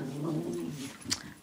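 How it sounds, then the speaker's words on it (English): A small miniature pinscher vocalizing close by, a low growling whine with a brief higher yip near the end, sounding alone. "my little dog, my little puppy, Shadow, and my other dog, Stratis"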